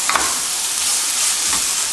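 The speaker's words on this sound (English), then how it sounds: "Now I'm going to add in the rapeen." Rapini tossed into onions, ginger, carrots and celery sautéing in oil, giving a loud, continuous close-up sizzle with a couple of quick utensil knocks at the start.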